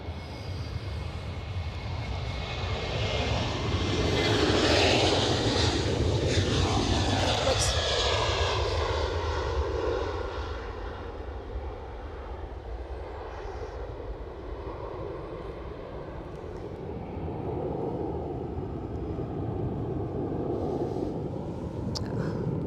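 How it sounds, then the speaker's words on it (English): A Ryanair airliner departs for Belfast from Edinburgh Airport, its loud, sustained engine roar sweeping past with a Doppler shift and then fading into a distant rumble, while someone talks over it. "Ryanair off to Belfast."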